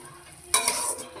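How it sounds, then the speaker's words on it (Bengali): A paste of melon seed and cashew hits hot spice in the pan and is stirred, a sudden bright sizzle breaking in midway with a spoon scraping softly through it, close and brief. "এবার মশলার সঙ্গে এটা একটু 2 মিনিট মতো কষিয়ে নেব।"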